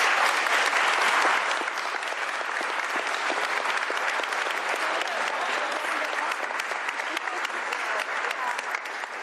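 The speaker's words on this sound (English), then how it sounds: "please give them a round of applause" Applause at a bill signing ceremony, a dense, sustained wash of clapping from a sizable crowd, loudest at the start and then holding steady to the end.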